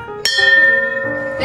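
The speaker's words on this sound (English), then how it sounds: "As you leave, just ring the bell at the door." A single bright ring from a bell on a pharmacy shop door, struck sharply and left to ring out with a long shimmering decay, close and clear.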